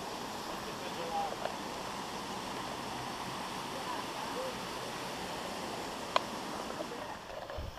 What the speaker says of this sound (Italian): Fontanino di acqua fresca.